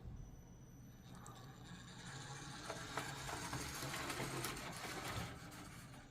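A CD motor drives a horn mechanism along a dirty track, giving a steady mechanical whirring with faint ratcheting clicks, close and moderately loud, with no talking.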